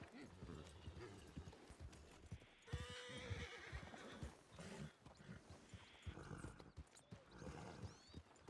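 Horses whinny and neigh repeatedly with clip-clop hoofbeats in a ranch roleplay video game, loud and busy, with several close calls overlapping under scattered voices.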